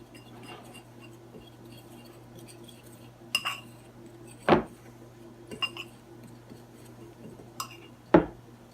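Cayenne and spices being mixed into flour in a bowl, a quiet kitchen with a few scattered clinks and scrapes of a utensil against the bowl, two sharper knocks standing out, no talking.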